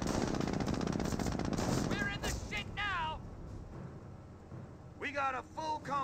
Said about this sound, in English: The Panzer Grenadiers saying hi back with bullets or pellets of friendliness.